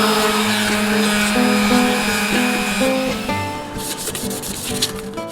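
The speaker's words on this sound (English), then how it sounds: "60 grit sandpaper will remove most of the rust and nicks" Steady abrasive sanding of a rusty 1982 Datsun 210 steel wheel rim with 60-grit sandpaper drones close up, with a tonal whine shifting in pitch, then turning to rougher scratchy rubbing near the end.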